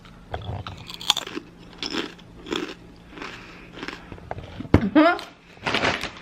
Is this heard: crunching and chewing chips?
yes